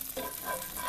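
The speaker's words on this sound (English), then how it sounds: "As the butter melts and it gets hot" Butter melting in a hot pan for banana bread French toast, giving a steady, close sizzle and crackle throughout.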